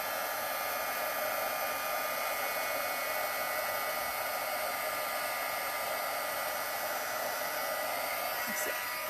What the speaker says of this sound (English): Bear with me while I put my hairdryer on.